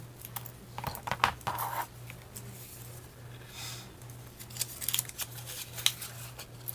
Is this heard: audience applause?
no